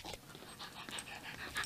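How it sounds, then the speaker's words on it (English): Four-month-old yellow Labrador puppy panting close up: quick, soft rhythmic breaths repeating through the short moment, fairly quiet with no talking. "He's a four-month-old yellow lab training for seeing eye dog service."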